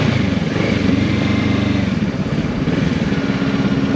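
A motorcycle engine running near a petrol station in Australia, a loud, steady low throbbing idle that holds at an even level throughout with no talk over it.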